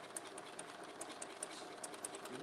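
A sewing machine stitching quietly nearby, with a soft, steady mechanical whir and evenly repeating light ticks throughout.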